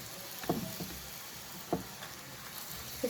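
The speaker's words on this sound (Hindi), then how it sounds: "इस तरीके से चम्मच के साथ दबाएंगे पराठे को, सेकेंगे इसको" Aloo paratha frying on a hot griddle, pressed down with a spoon, giving a soft steady sizzle with a few sharper taps of the spoon, close and moderately quiet.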